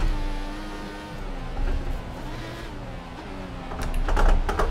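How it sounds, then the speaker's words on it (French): A Formula 1 car engine in the racing video game F1 2014, a high whining note that drops and climbs again through repeated gear changes, loud and close, with no voices over it. "Allez, accélération. Oh, j'ai l'impression que ma voiture est en furie là."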